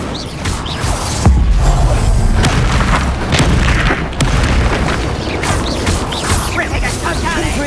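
Explosive spell blasts from Hogwarts Legacy combat, loud booming bursts and crashes landing in quick succession over a dense, continuous game soundscape, with shouted spell incantations mixed in.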